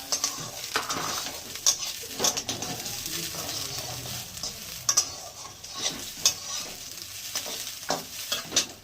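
Ginger and green chilies frying in a pan for semolina pulao, a steady sizzle with occasional sharp stirring clinks and scrapes of a utensil against the pan.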